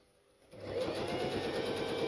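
A sewing machine starts up and runs a steady, fast mechanical stitching whir while sewing along a small opening in a pouch, close and continuous after a brief quiet moment.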